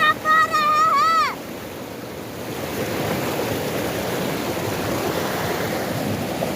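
Deep mountain river water in Gilgit Baltistan rushes in a steady, broad roar after a brief opening sound, continuous and fairly loud throughout.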